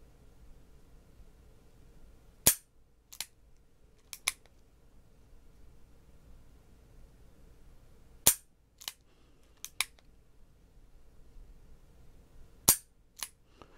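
Sharp pistol shots fired in single-action mode, six or seven crisp cracks arriving in spaced clusters with quiet pauses between, close and alone without talk.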